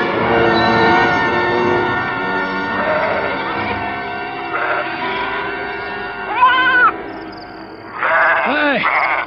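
Goats bleating in a radio drama about a herd fleeing forest wolves: several wavering bleats ring out loud and close, the strongest near the middle and the end, over a busy background of layered sound.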